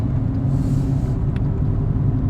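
Steady low engine rumble and road noise inside a moving car, continuous and even throughout with no talking.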